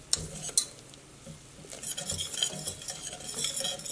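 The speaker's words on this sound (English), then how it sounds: "So you want to whisk together your butter and flour really well." Butter and flour whisked together in a pot for a roux, giving scraping, clinking metal strokes and a soft sizzle, steady and close, with no talking.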